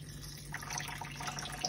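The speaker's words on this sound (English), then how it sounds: "Then you just tip it and throw the water" Rinse water is tipped out of a pot of rice, a brief soft pouring and dribbling of water, close and fairly quiet over a low background hum.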